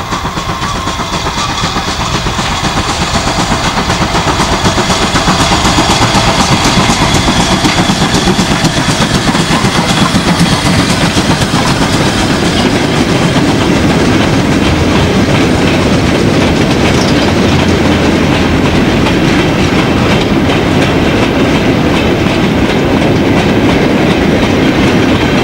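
Steam locomotive 3850 pulling out of Loughborough on the Great Central Railway, with a steady rumble and rhythmic clickety-clack of carriage wheels that stays loud and close for the full length, without any voices.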